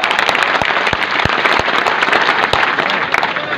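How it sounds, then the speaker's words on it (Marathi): Loud, dense applause for a village sarpanch at a crowded public gathering in Sarati Antarwali, with many hands clapping continuously and sharp individual claps standing out throughout. "एकदा सरपंचाच्या नावाने जोरदार टाळ्या वाजवा"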